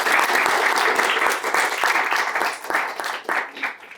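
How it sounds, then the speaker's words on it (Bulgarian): A studio audience at a Bulgarian television talk show applauds loudly and steadily, a dense wash of clapping that gradually thins and becomes more uneven toward the end. "Give her a round of applause."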